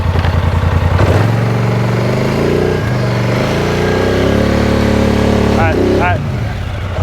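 A Polaris Sportsman 850 Highlifter ATV engine drones loud and close as it backs up through thick mud, revving and straining in uneven surges, with voices faintly under the noise.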